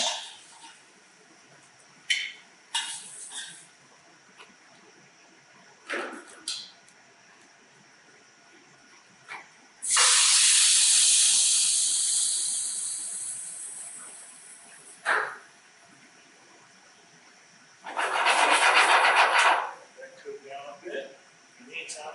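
Pork hitting a hot surface at a brewery kitchen in Louisville sends up a loud, bright burst of sizzling that fades over several seconds, then surges again later; scattered clatter and quieter moments sit between the two sizzles.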